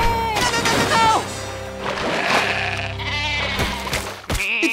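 Cartoon sheep bleat repeatedly over a busy, clattering background with thumps and crashes, the bleats wavering and close.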